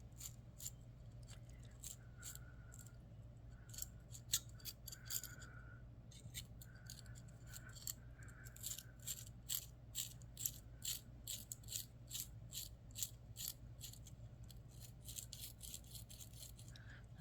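A small hand bead reamer grinds and rattles against a bead in quick, faint scraping strokes, repeated in bursts over a low background hum.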